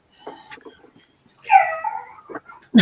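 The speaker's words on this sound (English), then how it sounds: "That's my dog." A dog whimpers indoors in a few soft, high whines and yips, with short pauses between them and one louder cry near the end.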